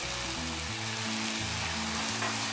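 Masala frying in a pan for Kerala-style chicken varattiyathu, a dense continuous hiss and sizzle heard up close with a low steady hum beneath it.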